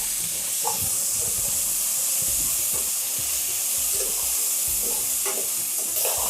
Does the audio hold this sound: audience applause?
no